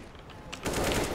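Gunfire spray in a shooting video game: a sudden loud burst of rapid automatic shots breaks in midway and keeps going, with quieter muffled game noise before it.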